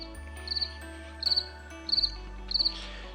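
A cricket chirps in four evenly spaced bursts of rapid pulses, close and clear over a low, steady hum.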